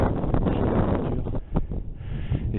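Wind buffets a microphone outdoors in the countryside, a loud steady low roar with brief gusty swells and dips throughout.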